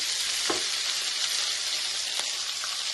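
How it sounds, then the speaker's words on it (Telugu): Garlic cloves, onions, lentils and green chillies frying in a pan with a dense, steady sizzle throughout, plus a couple of brief stirring scrapes; close and fairly loud, no talking. "ఇప్పుడు ఇవన్నీ మొత్తంగా ఫ్రై చేసుకున్నాం మంచిగా ఇవన్నీ ఫ్రై అవ్వాలండి"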